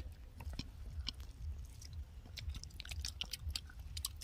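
Someone chews a mouthful of fish curry cooked with kohlrabi and potato, making soft, close, rhythmic chewing sounds with faint wet clicks.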